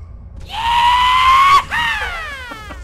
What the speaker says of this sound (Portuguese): Que grito foi esse do cavalo, velho?